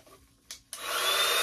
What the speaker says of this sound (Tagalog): Yan, pang blower ng buhok.